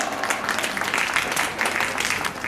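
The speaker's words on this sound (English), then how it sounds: "Please give her a big round of applause" An audience applauds a soulful song performance by a singer at a school celebration event, a continuous, moderately loud wash of clapping hands from many people that holds steady throughout.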